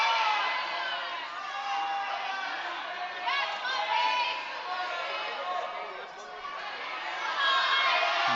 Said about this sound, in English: Crowd's really into it for Paige Louie on yellow.